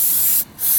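Carb cleaner sprayed in loud hissing bursts onto a lawn mower's air filter, one steady spray broken by a brief pause before it resumes, close up with no talking.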